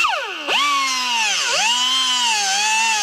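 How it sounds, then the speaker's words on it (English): A cutoff wheel whines loudly as it slices off ends while making a jewelry knob board, its pitch dipping under load twice before recovering to a steady, close, high scream. "now we're just going to take our cutoff wheel and get rid of these ends"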